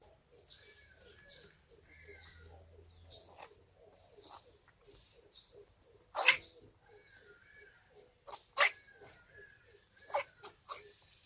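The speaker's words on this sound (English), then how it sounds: "check out these bunnies' sound they make when they sneeze" Pet rabbits sneezing in a quiet indoor space, a rapid run of tiny snorts followed by several sharper sneezes spaced a second or two apart, close and fairly faint.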